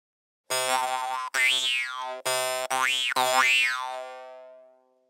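A jaw harp twangs the springy boing from the Dokonjo Gaeru opening, dubbed through VHS tape with the bass cut by EQ; several sharp plucks each sweep upward and down in pitch, and the last ring decays slowly with no voices.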